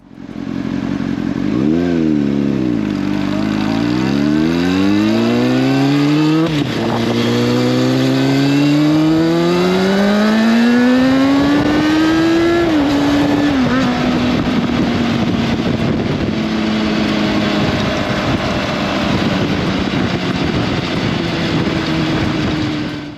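A Honda CBR600RR sport motorcycle engine revs hard through rising and falling pitches, loud and close, then settles into a steady high idle drone.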